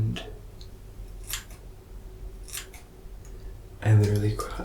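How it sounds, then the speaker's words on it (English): Several quick, crisp snips of scissors cutting bangs sound close up, spaced apart, with a louder rustle of cutting near the end; no one speaks. "So I always start by going in with my scissors and cutting my bang."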